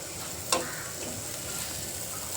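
Onion and tomato cooking in a pan for homemade noodles, heard as a steady low sizzle with a single sharp clink of a utensil early on, no talking.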